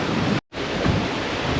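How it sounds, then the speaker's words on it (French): Rough, choppy sea under a 20–25 knot apparent wind rushes past at sea, a dense continuous hiss of wind and wave wash with a brief dropout near the start, no voices. "20-25 nœuds de vent apparent, une mer bien agitée"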